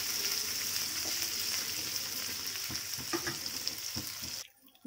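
Kadai paneer sizzles in a frying pan as it is stirred, steady frying hiss with scattered scraping knocks of the spoon, before the sound cuts off abruptly near the end.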